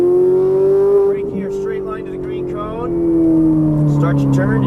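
Ferrari 458 Italia with a 560 hp engine on a racetrack, loud in-car engine tone swelling and falling as the throttle is squeezed on out of a turn, with a person talking over it.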